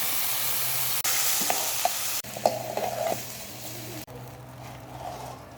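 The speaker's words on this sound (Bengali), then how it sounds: "10 মিনিটের জন্য মিডিয়াম তাপে চালটাকে ভালোভাবে ভেজে নেব" Soaked, drained rice being fried in a pan on medium heat for pulao makes a steady sizzle with scattered stirring scrapes, interrupted by a few abrupt cuts, no speech.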